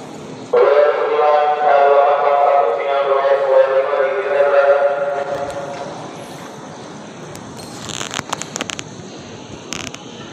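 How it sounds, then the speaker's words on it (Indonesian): A KRL Commuter Line electric train on the Jakarta Kota to Bogor route pulls into Manggarai station in South Jakarta. A loud, sustained horn-like tone is heard first, then fading rail rumble with a few sharp clicks near the end. "Nah, ini KRL komuter lain dari Jakarta Kota ke Bogor telah tiba."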